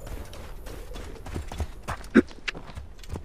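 Horse hooves in Assassin's Creed Origins clip-clop in a steady, close rhythm as the horse approaches, with one sharper, louder hoof strike near the end.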